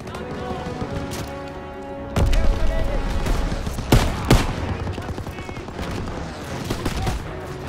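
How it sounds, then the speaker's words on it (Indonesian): Rapid, loud bursts of gunfire and booming explosions in Call of Duty WWII, dense and continuous throughout, with game music and voices underneath. "saya ditembakin dari atas"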